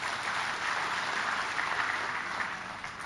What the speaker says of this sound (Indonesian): Tepuk tangan dong buat mereka.